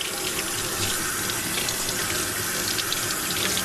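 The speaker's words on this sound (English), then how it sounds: "Rinse it off." Kitchen tap running steadily over a freshly cut fluke fillet as it is rinsed, producing a constant, close hiss of splashing water with no voices.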